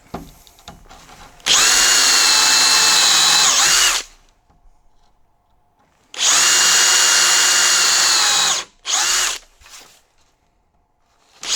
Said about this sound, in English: Bosch countersink bit.